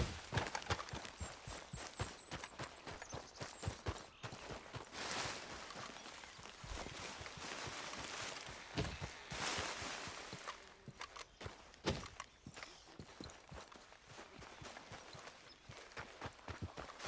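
Horse hooves clip-clop steadily in Red Dead Redemption 2, a dense run of close, fairly loud hoof strikes mixed with other game sounds and no talking.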